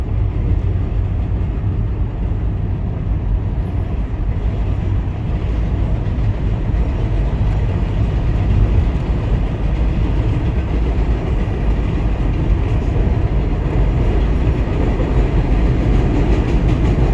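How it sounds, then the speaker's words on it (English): A train rolls past steadily, its rail cars keeping up a continuous rumbling clickety-clack at close range for the whole stretch, with no voices over it. "Charlie Choo Choo Train."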